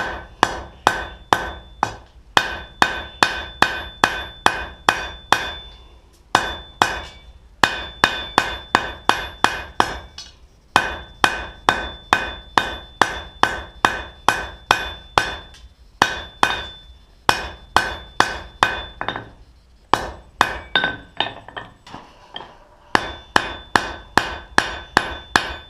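Steel fire poker stock hammered on an anvil while being drawn out into a thin taper, sharp ringing blows repeating steadily in quick bursts with brief pauses between groups, loud and close.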